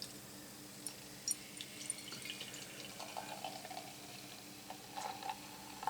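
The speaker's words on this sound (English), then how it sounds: "So pour this fellow on into a glass." Cloudwater DIPA V3 beer is poured from the can into a glass, a faint, close trickle with small splashes and fizzing that swells slightly toward the end, with no voices.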